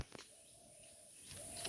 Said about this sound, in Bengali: আবার ঘুঘুটা ডাকছে।